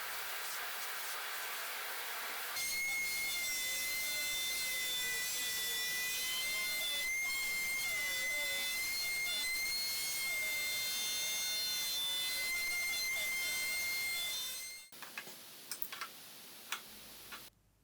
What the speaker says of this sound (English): Route the insert for the saw